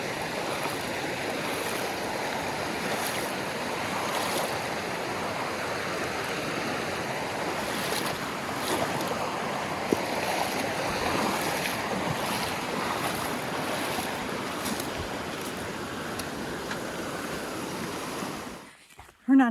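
Rushing water at a trail creek crossing during the South Mountain Marathon, a steady broadband wash mixed with wind buffeting the microphone, close and continuous before cutting off abruptly at the end.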